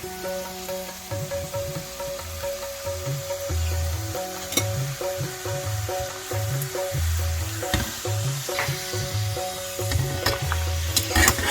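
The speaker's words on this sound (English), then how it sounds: "I will add one by one in the oil and fry it." Seedai, small Janmashtami rice-flour balls, frying in hot oil, with a steady busy sizzle and bubbling plus occasional sharp pops and faint clinks throughout, no voices.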